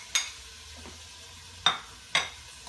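Bell pepper and fermented black beans fry in a pan while being stirred, a quiet background sizzle broken by three sharp spoon scrapes or clinks.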